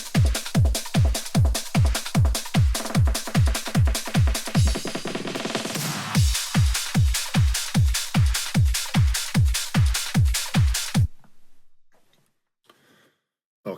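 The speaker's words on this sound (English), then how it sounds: "So let's listen to the percussion just on its own." Soloed drums and percussion from an aggressive track pound out a fast, even run of punchy kicks, pass through a noisy, washed-out fill midway, then resume the steady hits before cutting off abruptly.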